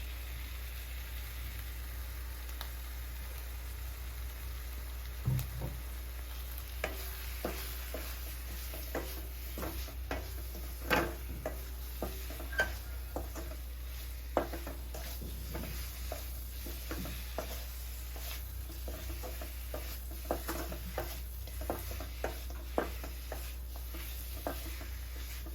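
Ground masala sizzles in an oily pan for a spicy chicken sukka while a spoon stirs it, producing scattered scraping clicks and taps over a constant low hum and steady frying hiss.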